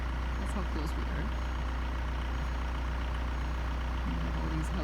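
Low, steady engine drone heard from inside a moving car, a constant rumble that fills the cabin while someone talks over it at times.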